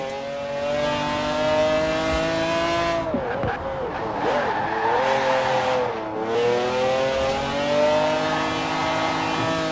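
A McLaren F1, the 1990s carbon-fibre supercar, races in Forza Horizon 4 with a loud, sustained engine howl that rises and falls through gear changes, with brief dips around shifts and constant high-revving drone throughout.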